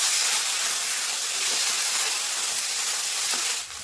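Water poured onto spice paste frying in oil for a fish curry, setting off a loud, steady, close sizzling hiss that holds for several seconds and drops off slightly at the end.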